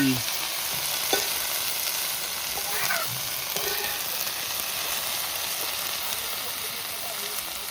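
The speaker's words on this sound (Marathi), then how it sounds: "तव्यावली भेंडी" Okra sizzles and crackles steadily on a hot griddle, a constant close frying hiss with a few soft clinks.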